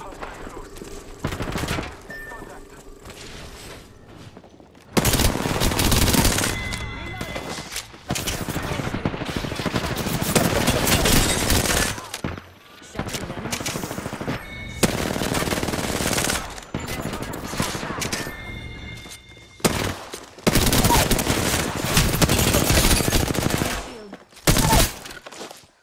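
Automatic weapon fire from an Apex Legends match, with loud bursts of rapid gunfire separated by short pauses, repeated across the clip and heard close and dominant over the game's background sound.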